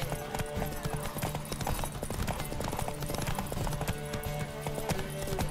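Rapid clip-clop of horse hooves galloping in The Witcher 3: Wild Hunt under a dense layer of game sound effects, with occasional whinnies, steady throughout.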